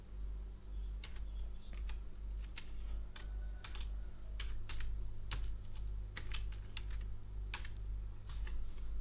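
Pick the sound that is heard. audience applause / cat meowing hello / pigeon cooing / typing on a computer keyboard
typing on a computer keyboard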